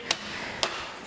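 A hammer strikes ingredients in a bag twice for poke, about half a second apart. Each blow is a dull, sharp thwack over a steady background hiss.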